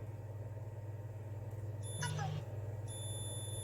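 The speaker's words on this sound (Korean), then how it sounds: "테스터기가 있으면 테스터기를 알람 모드로 해놓고 2개씩 이제 찍어 봅니다" A multimeter in continuity alarm mode gives brief, faint electronic beeps while two wire ends are touched together, set against a steady low room hum.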